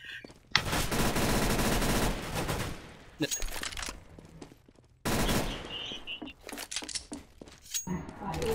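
Rapid automatic gunfire in the video game CS GO, two long loud bursts with scattered single shots, with a player's voice talking over parts.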